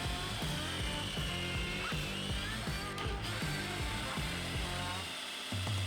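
A power drill boring pocket holes into wooden side panels for a mid-century modern record player cabinet, a steady loud whirring with repeated rhythmic pulses throughout, cutting off briefly near the end.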